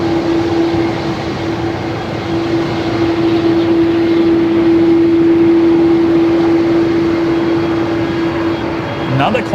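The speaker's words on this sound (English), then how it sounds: "Another Qantas 330 on the way out." A Qantas Airbus A330 departs Melbourne Airport as a steady, broad engine roar with a constant droning hum, holding even and fairly loud throughout.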